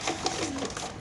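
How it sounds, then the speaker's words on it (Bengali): A large grizzle pigeon at a pigeon farm gives a brief, soft cooing call, heard close and low against a faint background. "এখানে আছে হলো বড় সাইজের একটা গ্রিজেল কবুতর"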